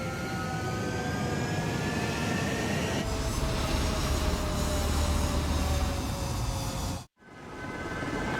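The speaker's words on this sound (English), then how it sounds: "Mage 2, clear for takeoff." A fighter jet in the video game Ace Combat 7 roars loudly at close range as it takes off. The engine whine builds steadily and cuts out abruptly near the end.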